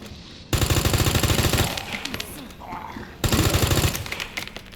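Automatic gunfire in the video game Resident Evil 2 Remake comes in two loud, rapid sustained bursts. A quieter stretch with scattered shots and game sounds sits between them.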